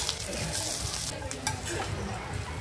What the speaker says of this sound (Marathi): आर्यन आणि दिवेश खोबरं तळून घेत आहेत अगदी काळसर वगैरे करून